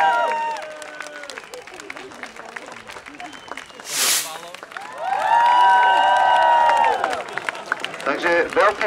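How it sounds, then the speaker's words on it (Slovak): A crowd applauds and cheers at an outdoor celebration after a daytime fireworks display, the clapping swelling in a loud burst midway, with a voice speaking over an amplified system and a sharp bang near the middle. "Takže veľký potlesk pre pána brata."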